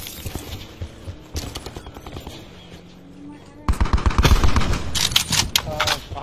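Gunfire in Call of Duty Black Ops 4 Blackout battle royale, scattered shots giving way to loud rapid automatic bursts in the second half, with excited players talking over it.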